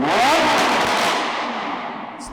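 A sports car exhaust, part of a private car collection, gives a loud close-up rev that quickly fades into crackling burbles over about two seconds.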